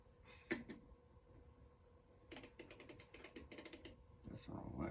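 Ratchet clicks from a hand tool driving big screws during a building job, a rapid run of sharp, evenly spaced ticks in the middle of the clip after a couple of isolated clicks, close and fairly clear, with no talk.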